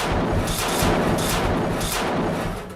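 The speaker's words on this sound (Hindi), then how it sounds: "इन लड़ाकों के हाथों में मशीन गन होती है, जिससे दनादन फायरिंग हो रही है" Machine gun fire during an ambush on Israeli military vehicles in Khan Younis, a dense, continuous rattle of rapid shots with heavy low thumps, loud and unbroken throughout.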